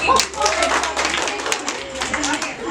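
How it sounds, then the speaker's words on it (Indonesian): Classroom students clap for a classmate during a public speaking lesson in a teacher-training school session, a steady burst of many hands clapping with voices talking over it. "Tepuk tangan untuk Binta"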